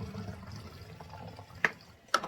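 Water is poured into a container while a homemade disinfectant spray is mixed, giving a soft, steady splashing trickle with two sharper clinks of the vessel near the end.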